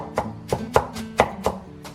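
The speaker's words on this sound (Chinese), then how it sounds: "然后再给它剁成那种包菜末" Knife chopping shredded cabbage on a cutting board, a series of sharp close chops in an uneven rhythm, several loud strikes spaced about a quarter to half second apart with no voices.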